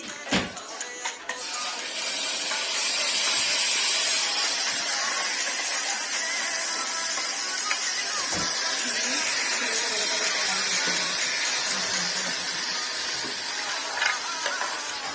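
Tamarind juice boiling hard in a pan while cooking chitrannam, a steady close hiss and bubbling sizzle running continuously with a few faint utensil knocks.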